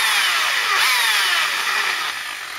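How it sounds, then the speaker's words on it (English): A power drill whines steadily at high pitch, close and loud, with the tone shifting slightly as the bit enlarges 3mm holes in sheet metal. "So I've just got to drill these out a little bit bigger"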